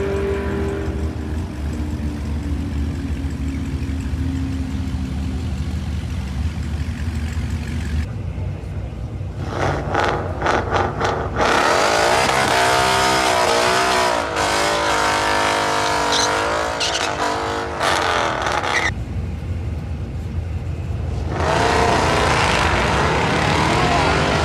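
A modded 5.0 car makes a drag strip pass, its loud engine droning and then roaring hard through rising gear pulls, with brief dips between shifts and a sustained, close, full-throttle run.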